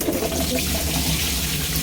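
Water runs steadily from a tap, splashing and gurgling close by as white pumpkin pieces are rinsed under the stream.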